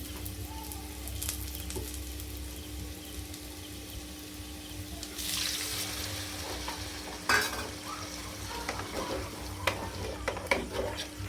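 Potato and pumpkin chunks fry in hot oil, with a premixed Kashmiri chili powder and turmeric powder blend added, giving a steady sizzle under occasional scraping stirs and a louder rush of hissing midway, with no talking.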